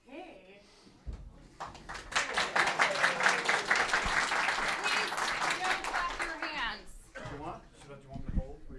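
An audience claps as a presenter is called up to the stage at a workshop event, with a steady burst of hand clapping lasting several seconds before tapering off, and voices talking around it.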